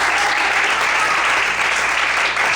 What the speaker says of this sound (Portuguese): Vamos aplaudir ao Senhor Jesus.